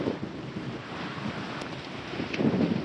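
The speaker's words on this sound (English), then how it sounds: "What a windy day." Wind blows across the water around a kayak inshore near Charleston, South Carolina, a steady, moderate rushing noise with faint lapping, no speech.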